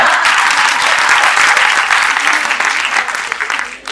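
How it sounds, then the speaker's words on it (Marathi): Applause at the close of a training program, dense steady clapping from a group filling the room, tapering slightly near the end. "टाळ्या."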